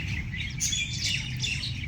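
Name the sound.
birds chirping in park trees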